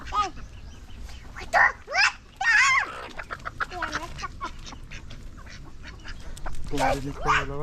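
Chickens cluck in bursts, with a few sharp fowl calls rising over a steady background of voices and farmyard noise.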